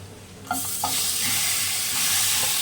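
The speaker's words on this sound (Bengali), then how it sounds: "কড়াটা গরম হয়ে গেছে মাংসটা দিয়ে দিচ্ছি দেখুন একদম তেল ছাড়া কিন্তু" Marinated mutton dropped into a hot, dry kadai with no oil, bursting into a loud, continuous sizzle that swells and holds steady after a couple of soft clatters at the start.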